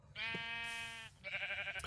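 Sheep in Minecraft bleat twice in quick succession, a long wavering cry followed by a shorter one, close and clear with no talking.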